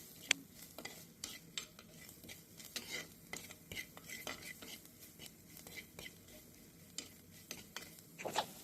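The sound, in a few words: sautéing crushed garlic and spice powders in a pan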